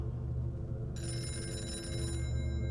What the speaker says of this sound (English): Inside the house, the telephone rang, sounding further away than it should have.